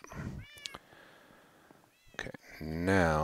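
A cat meows several times, with short mews early on and a louder, drawn-out meow at the end, close by in a quiet room.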